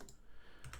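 Quiet computer keyboard typing of a terminal command, a few soft key taps near the start and a small cluster of clicks at the end.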